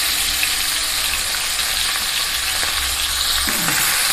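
Pieces of bata fish sizzle in hot oil in a home kitchen, giving a steady, even crackling hiss that holds at the same level throughout, with no talking.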